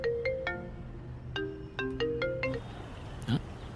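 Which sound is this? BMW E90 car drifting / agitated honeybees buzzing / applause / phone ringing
phone ringing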